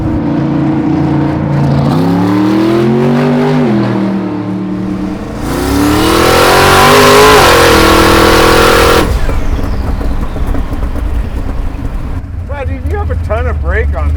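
A car engine revs hard through long rising and falling sweeps, loud and close, with crackling exhaust pops as the revs drop and people talking over it.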